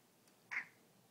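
A cat gives one short, faint meow in a quiet indoor room, a single brief call with near silence around it.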